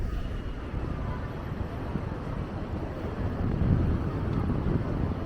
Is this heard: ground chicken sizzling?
no